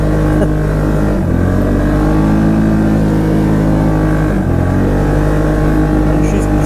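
A Polaris Ace 570 side-by-side chugs along off-road across a field, its engine droning loud and continuous with a couple of brief dips in pitch.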